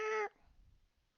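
A single short, clear cat meow close by, ending abruptly and followed by near silence.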